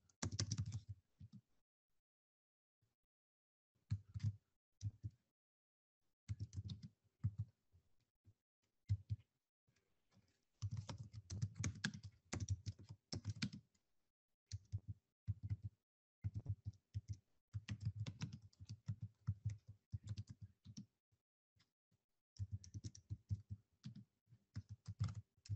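Typing on a computer keyboard to write a chat message during an online Lingít language class, quiet bursts of rapid key clicks separated by short pauses, close and with no talk.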